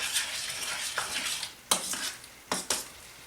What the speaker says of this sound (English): So once everything is simmering, then mix in the flour.